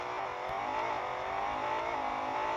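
A BMW M5 pulls hard in first gear during a race: a steady, fairly loud engine note climbs smoothly in pitch as the car accelerates, with no voices over it.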